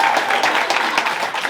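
Dense, steady applause from an audience at a musical theatre showcase at the Phoenix Arts Club, filling the whole stretch without a break.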